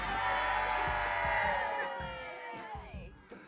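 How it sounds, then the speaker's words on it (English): A crowd at a Lions season launch event screams and whoops together in one long, loud, sustained cry that tapers off after a few seconds. "Come, everyone scream."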